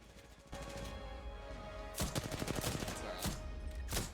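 Gunfire in the video game Apex Legends, bursts of rapid shots in clusters, sharp and fairly loud with a brief pause between volleys.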